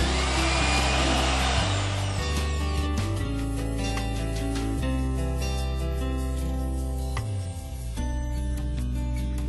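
A power drill whirs loudly and steadily, its motor pitch stepping up and down as it drives a lag screw securing a water heater strap, with no talking.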